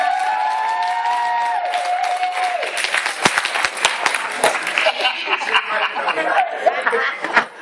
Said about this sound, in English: Give King a round of applause, man.